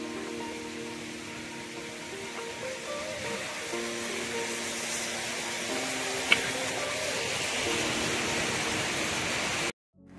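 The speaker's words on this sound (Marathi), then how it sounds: "Amazing waterfall." Pangrad waterfall in a Konkan village roars as a broad, steady rushing hiss of falling water, loud and continuous, before cutting off abruptly at the end.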